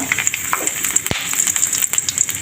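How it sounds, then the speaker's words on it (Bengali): Whole dried chillies, cinnamon and cardamom temper in hot oil in a wok, giving a steady, close sizzling hiss with scattered crackles and pops throughout. "কড়াইয়ে তেল দিয়ে দিয়েছি তেলে ফোড়ন দিয়েছি গোটা শুকনো লঙ্কা ফোড়ন দারচিনি এলাচ"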